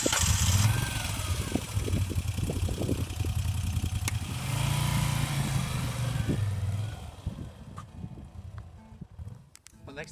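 A Moto Guzzi V7 III Stone motorcycle engine runs with a low throbbing idle and brief revs, fairly close, with a voice speaking over it at times before it fades lower.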